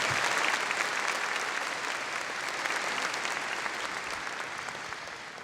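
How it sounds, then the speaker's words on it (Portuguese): A church congregation at a prayer gathering applauds together, a dense wash of clapping that is strongest at first and slowly tapers off. "Vamos aplaudir essas pessoas que passaram na nossa vida."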